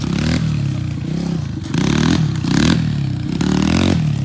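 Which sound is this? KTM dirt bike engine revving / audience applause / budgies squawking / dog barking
KTM dirt bike engine revving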